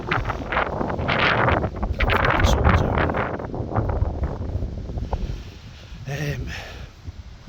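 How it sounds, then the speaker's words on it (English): Gusty wind buffets the microphone with heavy, rumbling roar, easing off toward the end as a voice speaks briefly. "Still windy and cold"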